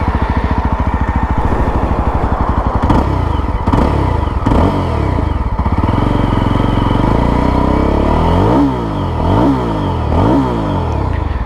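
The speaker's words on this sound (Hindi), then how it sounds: "तो एग्जॉस्ट कुछ ऐसा साउंड करता है।" A Yezdi Roadster motorcycle's slim exhaust, heard up close and loud as the engine idles with a rapid thudding beat, then blips through several sharp revs that rise and fall in quick succession.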